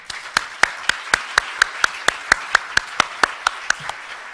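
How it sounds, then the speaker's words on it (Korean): Audience clapping at the opening ceremony of a Korean next-generation leaders' convention, heard as a steady run of sharp, evenly spaced claps that carry on without talk. "이사장님께 다시 한번 큰 박수 부탁드립니다."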